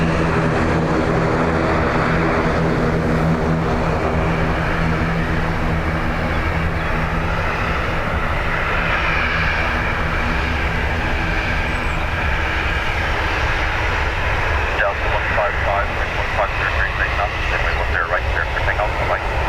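A plane passes overhead at Dublin Airport, a loud, sustained jet engine roar with droning tones that swells and holds for the whole stretch, close and overpowering.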